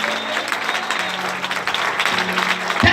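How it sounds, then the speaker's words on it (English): Congregation clapping during a Friday evening church service, a brisk burst of many hands applauding for a few seconds, fairly loud, with a sustained low organ-like tone underneath. "Clap unto the Lord."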